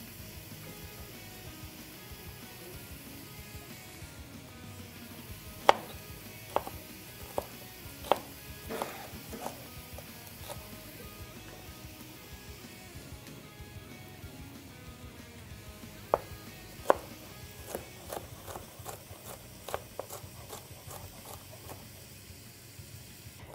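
Knife chopping ingredients for a beef and butternut squash chili, scattered sharp taps in irregular bursts over a low kitchen hum, moderately close, with no one speaking.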